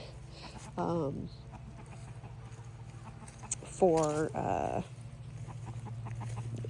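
Backyard chickens in a farm coop give two short bursts of clucking, close by over a steady low hum, with a brief word spoken between calls.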